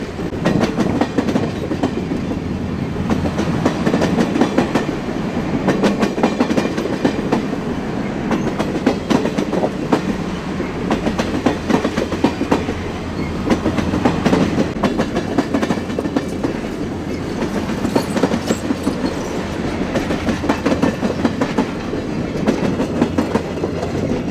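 A Union Pacific Big Boy steam locomotive train passes in Pennsylvania, with loud continuous rumbling and rhythmic clickety-clack of wheels on rails that holds steady throughout.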